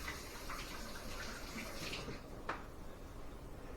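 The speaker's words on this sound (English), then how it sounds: "Here, rinse my hands off." Running tap water as hands are rinsed in a kitchen sink, a soft continuous splashing wash with a brief clink partway through, fairly faint and without talk.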